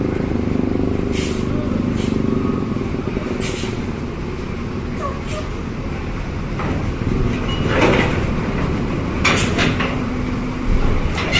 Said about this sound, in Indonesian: Tepat pukul 15:25 kedatangan bus dari Sumbar.